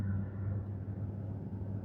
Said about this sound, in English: not so fast moving traffic we're dealing with right here